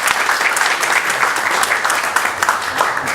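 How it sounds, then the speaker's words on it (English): An audience at an entrepreneurship panel in Washington, DC applauds a panelist, loud, continuous clapping from a room full of people with steady density and no speech. "So a round of applause for him."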